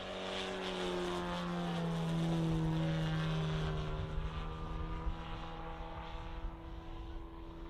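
A model aircraft flying at an airshow, its engine a steady droning whine that rises slightly and then eases as it passes, heard alone at a moderate distance against open-air background noise.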